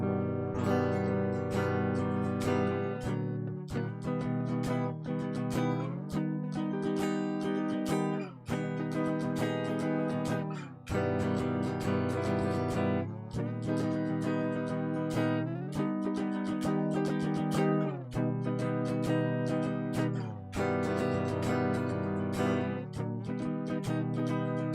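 Rhythm chords strummed on a guitar during a live practice session, steady full chord hits changing every few seconds, loud and continuous with no talking.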